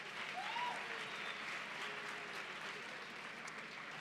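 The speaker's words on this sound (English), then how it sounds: "Can we please give the Deputy Minister another round of applause?" Audience applause for a deputy minister at a science month launch ceremony, a soft, steady wash of clapping heard from a distance with a faint tonal sweep near the start.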